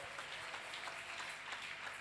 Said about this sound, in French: Acclame un peu le roi des rois.